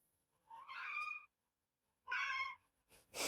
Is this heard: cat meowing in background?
yes